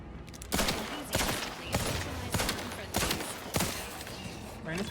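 Pistol shots in The Outer Worlds 2, six evenly spaced sharp cracks, loud and close, each trailing a short echo.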